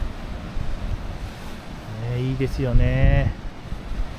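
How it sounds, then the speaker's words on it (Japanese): Rough ocean swells roll onto the shore of the Mihama Cape sand spit at Heda in West Izu, Japan, with a constant windy rush and a bigger wave surging toward the end while someone talks. "波うねりがすごいです。 これ今でっかい波今来ましたよ。"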